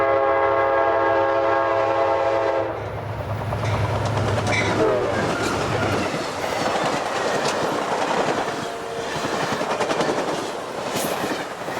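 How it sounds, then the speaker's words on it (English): A speeding Amtrak passenger train at Mango siding near Tampa, Florida sounds a loud, sustained horn chord, then roars past up close with rhythmic clickety-clack of wheels and rushing wind. "you can still stand at the north end of Mango siding in the loud and windy wake of a speeding Amtrak"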